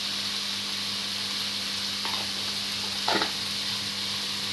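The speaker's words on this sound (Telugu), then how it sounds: "ఫ్రై అవుతుందండి" A paneer egg masala curry frying in a pan gives a steady, even sizzle throughout, with a couple of brief scraping stirs standing out near the end.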